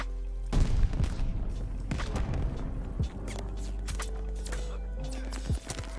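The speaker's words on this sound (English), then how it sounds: "Tossing grenade." Video game battle sounds with a thud around half a second in, then dense, rapid gunfire and sharp impacts continuing throughout, loud and close, with no voices.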